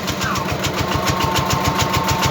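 A homemade generator built from an old electric motor running close by. It gives a loud, steady rhythmic humming drone with regular pulsing throbs, and no switch-off is evident.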